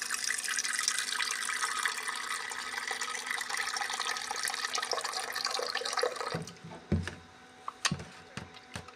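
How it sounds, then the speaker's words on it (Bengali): Water pours from a vessel onto washed red lentils, a steady, close splashing stream for several seconds that stops and is followed by a few light clunks and taps. "ডালটা ধুয়ে নিয়েছি, এবার পরিমাণ মতন একটু জল দিয়ে নিই।"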